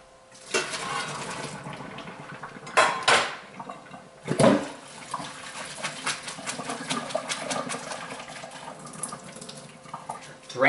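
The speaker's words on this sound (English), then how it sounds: "I'll drain it into the sink." Cooked whole wheat pasta being drained into a kitchen sink, with water pouring and splashing in bursts against the basin, loudest near the start and middle, then a steady trickle.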